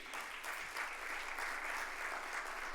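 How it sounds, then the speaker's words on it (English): Sustained applause from an audience at a Hall of Fame induction during a broadcasting union's general assembly opening ceremony, a steady dense wash of clapping that holds evenly without talk. "Please, a round of applause for him."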